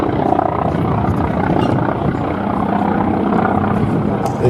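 Grumman Wildcat fighter at the Flying Legends air show, passing at very high speed with a loud, steady propeller and engine roar close by.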